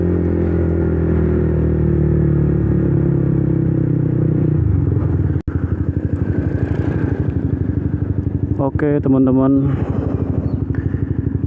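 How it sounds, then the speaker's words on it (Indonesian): A 2015 Honda CBR 150 K45 motorcycle engine idles loud and steady up close, with a brief cut and a quick blip of revs near the end, while someone talks over it. "ini motor yang saya pakai adalah motor CBR 150 K45 tahun 2015"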